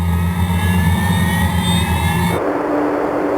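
The four jet engines of an Avro Vulcan bomber, each rated at 20,000 pounds of static thrust, accelerate at full power with a loud, continuous roar that shifts abruptly into a broader, harsher rush partway through.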